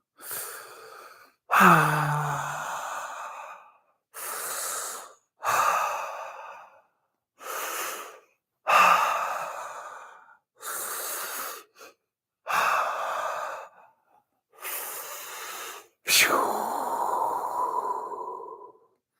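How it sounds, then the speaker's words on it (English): Slow, deliberate breathing in and out through the mouth, about nine separate breaths with silent pauses between them, close and clear with no talking. "Breathing in and out the mouth."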